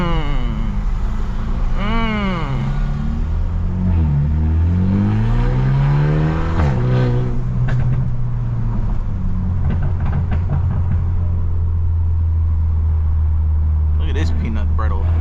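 Straight-piped BMW F30 engine revving hard from inside the car, with rising and falling revs, sharp pops and bangs, then settling into a loud low drone.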